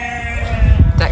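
Freshly shorn sheep bleating at a farm: a single loud, close bleat swelling over about a second.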